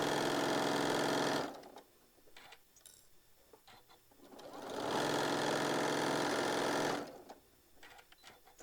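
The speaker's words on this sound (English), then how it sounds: "Go slow as you go over that, so nothing jumps, and then stitch it the rest of the way down" A sewing machine stitching a tote bag seam runs in two loud, steady whirring bursts with a quiet pause between them, the second burst continuing for about two seconds before stopping.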